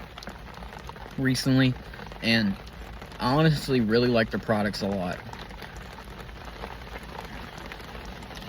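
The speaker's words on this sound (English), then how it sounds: "You can hear it right now. It's raining." Rain falls steadily on a car with no back windshield, a soft continuous patter throughout while someone talks in the foreground for several seconds.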